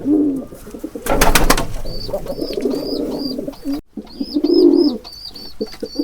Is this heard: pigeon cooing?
yes